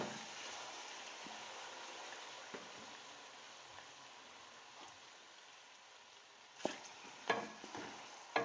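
Mutton pieces fry in a pot for korma with a faint, steady hiss, then a few louder clatters of stirring near the end, with no talking.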